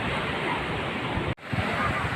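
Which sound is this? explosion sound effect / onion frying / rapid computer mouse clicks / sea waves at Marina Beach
sea waves at Marina Beach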